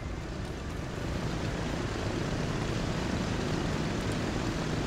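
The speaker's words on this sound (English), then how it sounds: "Lockheed Super Constellation." A Lockheed Super Constellation propeller airliner in the train-and-transport game Transport Fever gives a steady, even engine drone, fairly faint and unchanging throughout.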